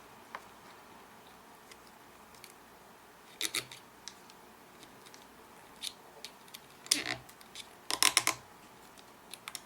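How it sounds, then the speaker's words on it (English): A plastic zip tie being pulled tight through its ratchet: three short bursts of quick, fine clicking, near and fairly quiet, with a few isolated ticks between them and no talking. "Is this how you zip tie? I think you just put it in the thing."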